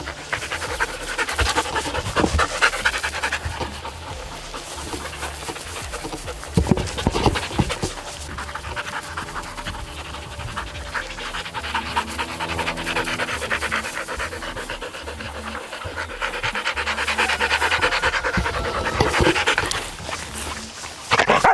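An Australian shepherd dog pants steadily and rhythmically close by, with occasional bumps and movement noises throughout and no talking.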